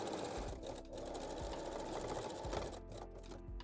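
A sewing machine runs continuously, stitching a small zigzag to secure strap loops and rings at the cup top of lingerie, a steady close whir with slight pauses near the end.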